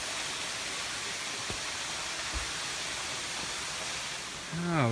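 Steady broadband roar of a waterfall in Lehigh Gorge State Park, Pennsylvania, heard from just beneath its top, a constant rushing wash with a brief tonal sweep near the end.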